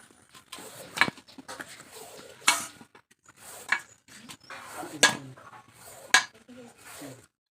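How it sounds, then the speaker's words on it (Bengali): A knife cuts through a bottle gourd with a series of sharp chopping knocks and scraping sounds in an irregular rhythm, close by under occasional speech. "এখন আমি লাউটা কেটে নিচ্ছি।"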